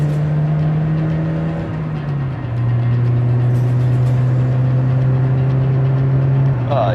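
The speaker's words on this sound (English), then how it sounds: "I'm driving a 1999 MX-5" A 1999 Mazda MX-5 sports car pulls away and accelerates, its engine drone steady and close with a shift in pitch partway through, running continuously without talk.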